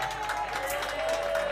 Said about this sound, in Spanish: Gracias a los que aplaudís